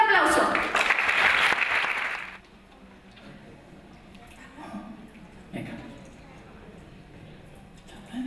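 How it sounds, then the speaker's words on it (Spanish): A festival audience at a poetry and arts benefit for a lupus association bursts into loud applause for about two seconds, then it cuts off abruptly and only quiet room noise with faint scattered sounds remains. "y un fuerte aplauso."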